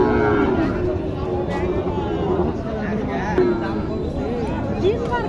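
Cattle mooing among Sahiwal bulls and calves at the Mataji cattle market in Naogaon, low drawn-out calls rising over a constant babble of crowd chatter and nearby talk.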